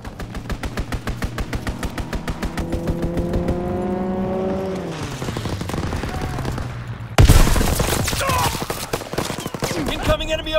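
Distant artillery and mortar fire in the Call of Duty WW2 undead event, with rapid gunfire bursts and rumbling blasts over a steady drone, then a sudden loud impact near the end followed by continued crackling fire.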